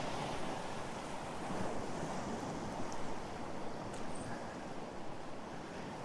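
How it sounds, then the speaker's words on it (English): Wind and surf roar steadily at a rainy seashore, a dense, constant wash of breaking waves and gusts with no pauses and no voices. "So we've got wind, we've got waves, we've got rain."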